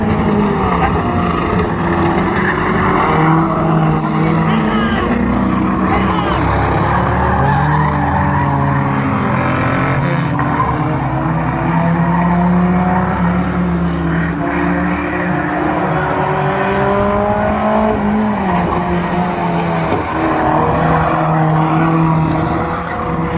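A banger race car spins out on the Lochgelly Raceway oval in Scotland, with loud continuous tyre skidding and a roaring engine that rises and falls, close and dominant throughout.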